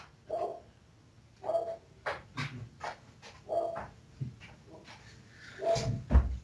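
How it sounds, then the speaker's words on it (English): A dog lets out a series of deep barks at irregular intervals, moderately distant and fairly quiet, mixed with faint knocking sounds in the background. "Now, that deep bark I can hear there, Craig, that isn't Betsy."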